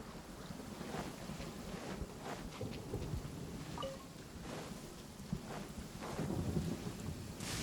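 Steady rain and rolling thunder of a storm in a video game, a continuous broad wash with low rumbling swells, fairly close and consistent throughout, no voices.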